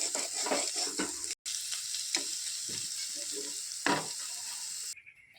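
Sesame fritters (til bora) frying in hot oil in a pan, a steady close sizzle running almost throughout, with a few soft clatters as they are turned, then a sudden drop near the end.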